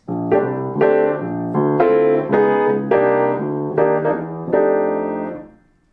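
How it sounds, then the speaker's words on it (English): Rich, jazzy piano chords, major and dominant chords with added ninths and thirteenths, ring out one after another at a steady pace, sustained and full, then fade away. "How to add the 9th and the 13th to the major chords and to the dominant chords"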